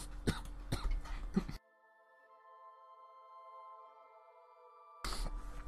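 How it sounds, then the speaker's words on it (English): A close, harsh coughing fit of several rapid coughs, then a stretch of quiet humming tones before the coughing breaks out again loudly at the end. "That was quite the coughing fit there."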